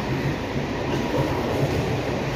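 Steady loud rumble inside a moving, crowded train, a continuous roar of wheels and carriage noise with no pauses.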